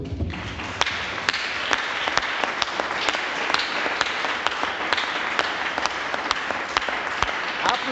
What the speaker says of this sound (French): Applaudissons-le.